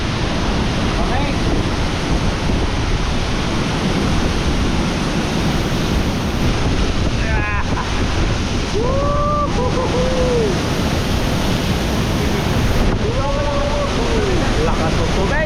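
Water rushes loudly and steadily inside the cave at Pagsanjan Falls, a constant roaring wash; voices call out briefly over the din.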